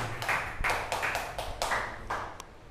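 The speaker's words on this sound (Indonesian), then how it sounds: "Tepuk tangan buat kelompok 3." A classroom claps for a student group, roughly eight distinct bursts of clapping in an uneven rhythm, fairly quiet and roomy, with no speech over it.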